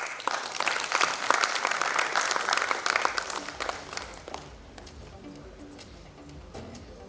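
A live audience claps loudly after a talk session; the applause thins and fades out about halfway through, leaving quieter room sound.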